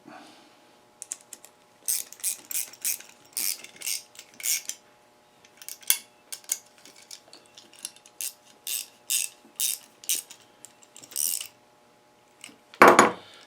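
A wrench ratchets in quick bursts of sharp clicks while a lock nut, lock washer and nut are tightened on a homemade camera mount, close and clear with short pauses between runs and a louder clunk at the end.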